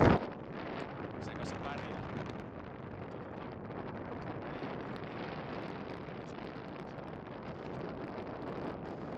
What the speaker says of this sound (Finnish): Tuuli ikävä, puuskittaista.